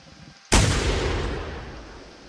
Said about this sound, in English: Yeah, I'm gonna throw off a shot.